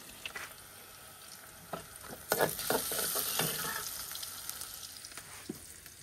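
Chicken sizzles and fries in a pan, with a steady crackle, a few stirring clatters and louder bursts of sizzle partway through, close up and without talk.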